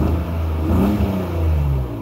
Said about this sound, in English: that misfire